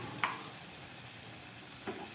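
Chopped tomato and coriander drop into a pan of frying sea fish (kekle) curry, giving two soft thuds over a faint, steady sizzle.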